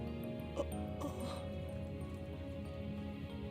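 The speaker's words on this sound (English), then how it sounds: "the dog's trying to get out." A dog in a video game cutscene whimpers and yips in short, faint bursts while trying to get out, set over a quiet, steady musical background.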